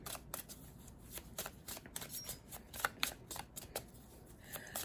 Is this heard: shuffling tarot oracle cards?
yes